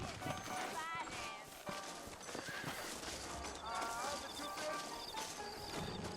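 Saddled horses in the Red Dead Redemption video game: steady clip-clop of hooves with a neigh or whinny, heard under ongoing talk and game music.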